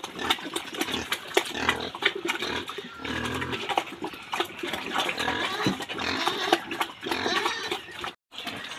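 Pigs on a pig farm in Assam grunt and squeal continuously, a dense, close chorus of snorts and oinks from several animals with no pause until a brief drop near the end.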